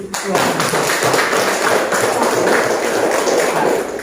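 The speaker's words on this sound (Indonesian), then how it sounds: "Tepuk tangan dulu." A group of students applauds in a classroom, a dense, steady patter of clapping hands lasting several seconds, fairly close and loud.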